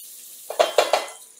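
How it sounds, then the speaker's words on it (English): Onion drops into shimmering hot oil in a pan, setting off three quick, loud sizzling bursts in a row that fade into a softer hiss, with no talking. "When it shimmers, I can go ahead and add my onion."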